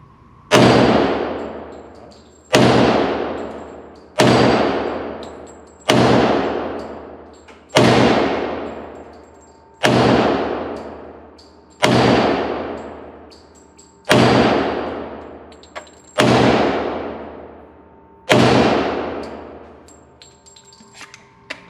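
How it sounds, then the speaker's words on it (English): Glock 35 Gen 4 .40 caliber pistol fired at a range: ten loud, sharp shots with ringing decay, spaced about two seconds apart, close and alone without talk. "Glock 35 Generation 4 shoots beautifully."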